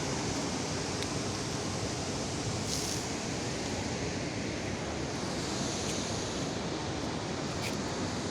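Steady, dense rushing water noise fills the whole stretch, a constant broadband roar like a nearby waterfall, with no voices.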